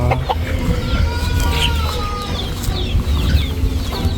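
Chickens cluck and chatter close by in a busy farmyard, short rapid calls overlapping continuously.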